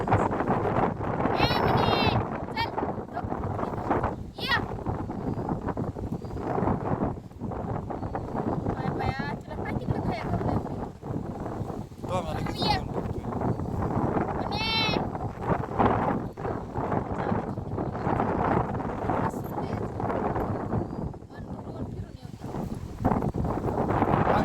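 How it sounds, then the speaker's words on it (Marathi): Strong wind roars and buffets the microphone continuously, with voices talking intermittently over the rushing noise. "वाऱ्याला हात लाव जरा. किती वार सुटले."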